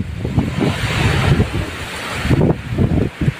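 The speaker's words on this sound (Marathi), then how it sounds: "आता जाय वारं सुरू." Wind sweeps across open farmland, buffeting the microphone with a steady, rumbling roar that swells into gusts, with no voices.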